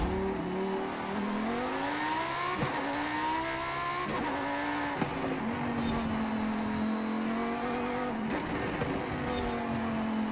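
Lamborghini Super Trofeo race car engine in Forza Horizon 5, revving hard through rising gear pulls with sharp drops at each shift, loud and close, then settling into a steady high drone.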